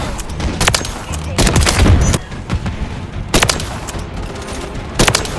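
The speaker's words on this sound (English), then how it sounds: "This here is the COD4 DRAGUNOV in Modern Warfare 3." Gunfire from the COD4 Dragunov sniper rifle in Modern Warfare 3, heard as several loud sharp shots spaced a second or two apart over game ambience, with a heavier burst of blasts near the start.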